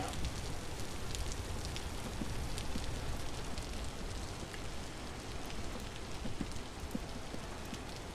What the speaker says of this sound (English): And it is still raining out.